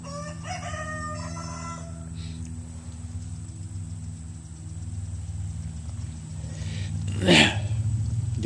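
Dorothy, a pet chicken, gives a few short vocal calls among faint background hum and low noises, followed by one brief, louder squawk near the end.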